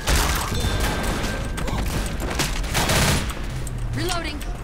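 Uzi fire in Left 4 Dead comes as sustained rapid bursts mixed with mechanical clatter and impacts, loud and continuous throughout.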